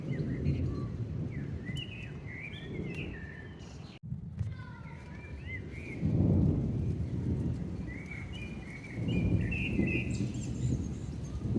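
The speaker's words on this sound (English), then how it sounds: "I'm pretty sure there's two different storms." Low rumbling from two separate thunderstorms rolls in and out beneath steady wind, with birds chirping faintly in the background; the distant thunder swells twice.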